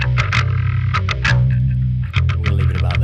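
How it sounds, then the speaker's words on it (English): Distorted metal bass with fader-controlled distortion, playing loud, gritty, chugging notes with sharp pick attacks in an uneven rhythm, alone and up front. "you can control the amount of distortion very easily with a single fader"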